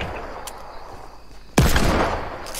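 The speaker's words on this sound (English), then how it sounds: "I haven't used a hand cannon in ages." A hand cannon fires a single sharp, loud shot in the Fortnite video game. It cuts through a quiet game-ambience bed and leaves a brief booming tail.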